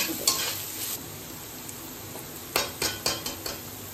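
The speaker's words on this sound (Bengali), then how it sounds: "সামান্য একটু লবণ দিয়ে আর একটু ভাজা ভাজা করে নেব খানিক সময় মধ্যে" Egg chicken noodles are stir-fried in a pan over a soft, continuous sizzle, with a spatula scraping and clinking against the pan in several sharp strokes, most of them in the second half.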